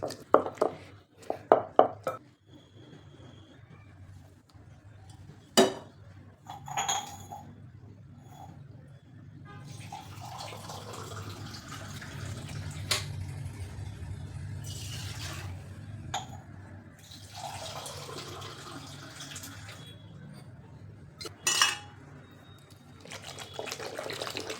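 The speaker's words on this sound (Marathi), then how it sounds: "तर आता ह्याला आपल्याला रवीने ह्याचं ताक बनवून घ्यायचं." A wooden hand churner works curd into buttermilk at close range, making steady rhythmic sloshing and swishing with occasional knocks against the pot.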